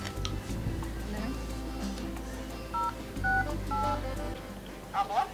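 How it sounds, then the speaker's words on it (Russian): A telephone number is dialed, giving a short run of clear keypad tones, each a brief beep spaced a little apart, over a low steady hum with faint background voices. "Звоним Светлане."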